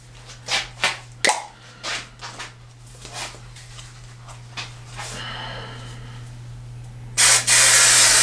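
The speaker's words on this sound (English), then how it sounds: "Alright, so that pattern's all sprayed up." An aerosol can of spray adhesive is sprayed onto a paper scroll saw pattern in several short, close hissing bursts, followed by a longer, louder continuous spray near the end.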